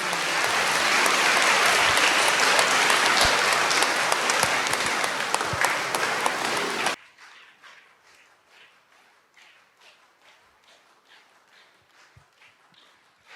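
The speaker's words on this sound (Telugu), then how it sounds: "అందరం గట్టిగా చప్పట్లు కొడదాం." Loud, dense audience applause fills a cathedral closing ceremony for a diocesan assembly, steady for about seven seconds before cutting off abruptly to faint scattered taps and room noise.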